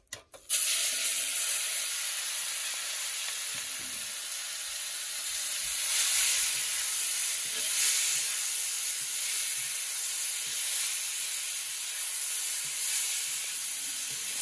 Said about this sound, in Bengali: এবার সয়াবিনটাকে ভেজে নেওয়া হচ্ছে প্রথমে।